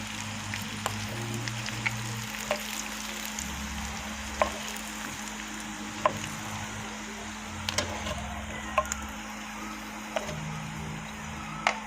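Squid calamares frying in oil give off a steady, soft sizzle with scattered sharp pops and crackles throughout.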